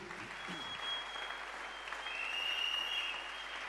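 A church congregation claps for Jesus in a continuous, fairly faint wash of applause, steady throughout with no voices standing out.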